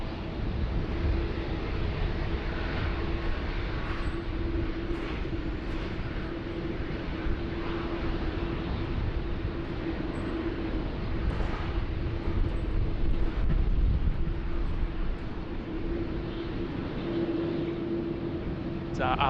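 A jet airliner passing at Sydney Airport gives a steady, loud, broadband roar that holds for the whole stretch, with a low droning hum and some wind buffeting on the microphone.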